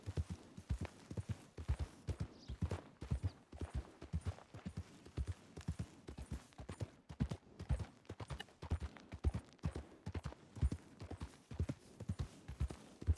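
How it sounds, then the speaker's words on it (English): Horse hooves clip-clop in a steady, even walking rhythm throughout a ride in a roleplay video game, clear and close with nothing else over them. "so Phoenix, I only take her out for like an hour or two at a time, and then I'll put her away and grab a different horse"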